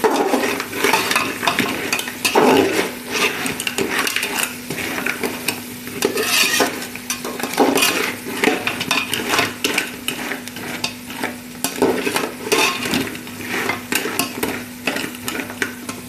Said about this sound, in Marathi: आता आपण याच्यामध्ये खेकडे टाकून घेऊ. मसाल्यात फ्राय करून घ्यायचे.